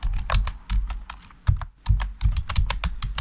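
Text typed on a computer keyboard, a quick, close run of sharp key clicks in uneven bursts with a brief pause midway, nothing else audible.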